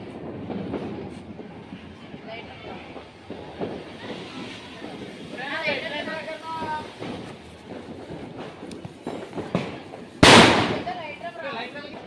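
Diwali firecrackers go off at night amid people talking, with scattered pops and one sharp loud bang near the end standing out over the voices.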